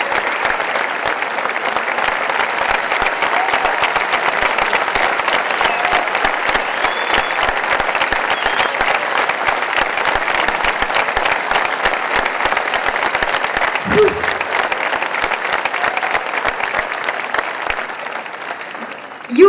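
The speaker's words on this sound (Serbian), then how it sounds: "hvala vam na ovom aplauzu" Sustained, loud audience applause fills an open-air summer stage in Niš during a festival award ceremony, steady dense clapping from a large crowd with no talk over it.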